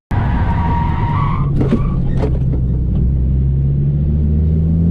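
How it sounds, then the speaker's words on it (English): A Ford Focus ST spins out on a race track from lift-off oversteer, with loud screeching tire squeal over a steady engine rumble, the skid fading into a sustained low drone. "what happened there was something called lift off oversteer, where what happened was I was going into the corner too fast, let off the throttle"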